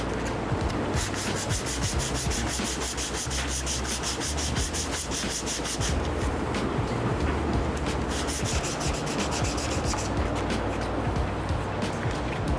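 Body filler being sanded on a 1948 DeSoto, close rhythmic back-and-forth scraping strokes that pause briefly around the middle and resume, loud and steady with no talk.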